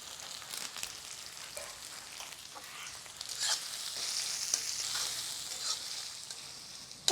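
Onion frying in oil with dried chilli and curry leaves, a soft continuous sizzle with scattered crackles and stirring scrapes, rising slightly in the second half, close and alone.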